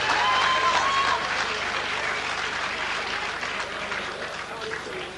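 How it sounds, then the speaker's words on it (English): Fight crowd applauding a boxer after his bout, a loud, dense roar of clapping and crowd noise with a brief whistle early on, tapering slightly over five seconds. "How about a big round of applause on the machine, Phil Chapman."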